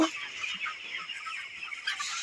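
Several broiler chickens cluck and murmur close by in a busy, overlapping chorus on a poultry farm, with no other sounds standing out.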